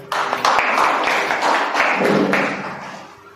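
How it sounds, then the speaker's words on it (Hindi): A short burst of clapping from a small group, steady and fairly close, fading out toward the end. "सही है, सर के लिए ताली बजाएगा।"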